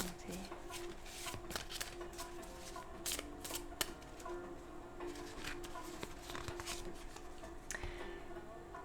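Oracle cards shuffled by hand make a run of soft, quick riffling taps and flicks, close and fairly quiet, with faint speech in the background.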